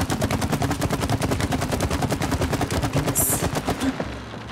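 Gun firing in the video game It Takes Two, a loud rapid-fire stream of evenly spaced shots that runs for about four seconds and then stops abruptly.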